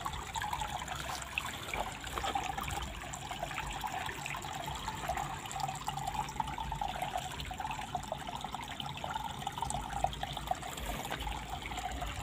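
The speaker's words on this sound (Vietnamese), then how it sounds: "cái suối đang chảy róc rách xuống như nước và chảy ra biển" A shallow stream trickles down toward the sea outdoors, a continuous gentle babble of flowing water holding steady throughout at moderate level.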